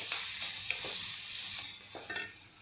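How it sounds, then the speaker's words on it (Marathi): Onion softening with a spicy chutney in a pan for stuffed brinjal rice, a steady bright sizzle with soft intermittent stirring scrapes, close and continuous, fading slightly near the end. "आता थोडासा कांदा आपण ट्रान्सल्युसंट करून घेऊया या चटणीबरोबर"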